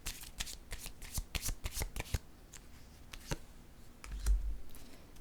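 Tarot cards are being shuffled close by, a quick run of crisp riffling flicks followed by a few scattered snaps and a soft thump, with no voices.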